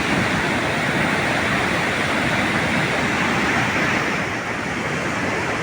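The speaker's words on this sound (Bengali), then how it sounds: "এটা একটা ইলেকট্রিক ড্যাম, যেখান থেকে জলটা ডিসচার্জ হচ্ছে।" Water discharges from a hydroelectric dam near Harsil on the Gangotri route, a loud, dense, unbroken roar of rushing water filling the whole clip without pause.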